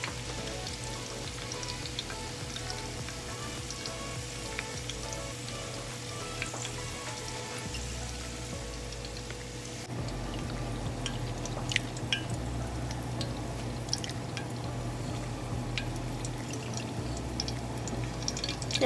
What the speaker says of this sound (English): So we're gonna take it out of the oil